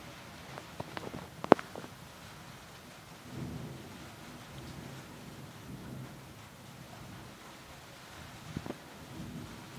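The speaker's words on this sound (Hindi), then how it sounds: "गांव में इतनी बारिश है बहुत ज़्यादा" Heavy rain falls in a village as a faint, steady hiss, broken early by one sharp crack and a few soft thumps.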